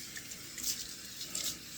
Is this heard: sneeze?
no